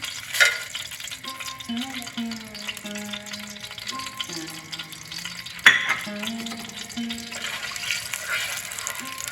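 Whole spices, including a dried chilli, temper in hot oil for a Bengali cauliflower dish, giving a steady close sizzle with a few sharp clinks and spoon scrapes.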